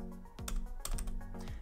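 Typing on a Satechi wireless full-size keyboard for Mac with US layout and numeric keypad, a few quick key clicks in short bursts, close and moderately loud, with no talking.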